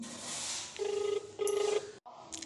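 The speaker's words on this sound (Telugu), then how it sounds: "రింగ్ అవుతుంది." Ringback tone of an outgoing phone call, two steady rings with a pause between them over a faint background hiss, then the line clicks and goes briefly silent.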